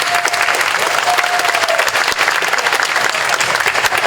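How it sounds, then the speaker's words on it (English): Festival crowd at the Wausau Hmong Festival giving a sustained, loud round of applause, dense clapping continuous throughout with a faint tone drifting in the background. "if we can give him a round of applause as well too"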